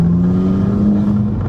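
VW Golf GTI with a Race Chip XLR throttle tune pulling in third gear from around 2,000 rpm, a steady low engine drone building gently and heard close from inside the car, with no talk over it.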